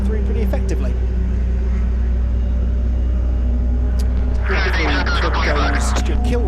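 Lotus and Mazda MX-5 race cars during a club race at Silverstone, a continuous loud engine drone with a rising surge of revving near the end, under steady race commentary.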